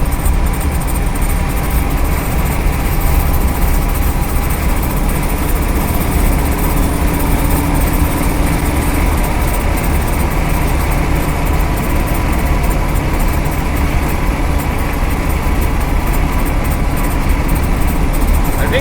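A 1956 Cadillac Sedan Deville engine, recently repaired for a vacuum leak, runs at a steady, even idle close by, a continuous low rumble with no pauses or revving.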